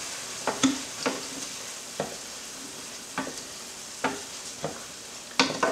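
Intermittent scraping and clinking of a spoon stirring thick risotto rice with chicken stock in a pan, with a soft sizzle beneath, irregular strokes spaced a second or so apart.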